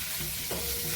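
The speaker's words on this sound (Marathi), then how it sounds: "आता यामध्ये मी हिरवे वाटाणे घालते वाफवलेले," Sprouted pulses with steamed green peas sauté in a pan for a protein salad, a brief, steady close sizzle with a light stirring sound and no voices.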